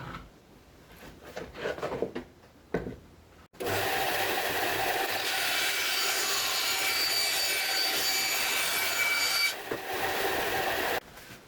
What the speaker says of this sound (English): trace it and cut it on the bandsaw